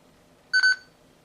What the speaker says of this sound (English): give you kind of a 2-beep confirmation